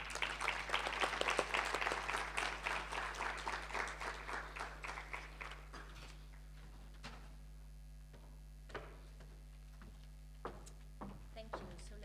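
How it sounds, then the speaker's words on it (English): A conference audience applauds a guest speaker at a faculty of management and law international conference, dense clapping that thins into scattered claps and faint handling noises over a steady low electrical hum. "Ladies and gentlemen, a round of applause for our guest speaker"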